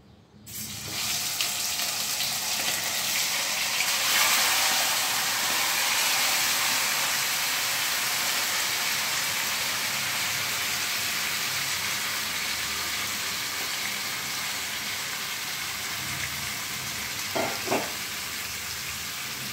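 Marinated chicken hits hot oil in a kadai and sizzles loudly and steadily, a bright continuous frying hiss with a couple of soft clinks near the end.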